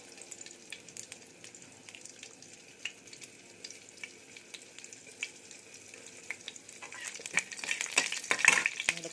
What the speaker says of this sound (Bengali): তারপর হলুদ নুন দিয়ে শিম আলু বেগুনটা ভেজে নেব।